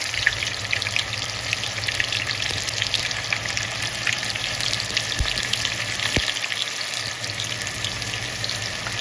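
Okra frying in hot oil gives a steady, bright sizzle that hisses continuously and evenly from start to finish, close and fairly loud with no voices over it.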